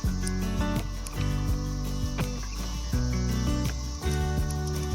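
Dense, continuous cicada buzzing and trilling, loud and steady throughout, with no voices.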